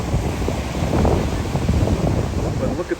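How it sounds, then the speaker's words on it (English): Ocean surf at Clearwater Beach during Hurricane Helene, heavy wind buffeting the microphone over a continuous rush of breaking waves, loud and close. "But look at the waves there."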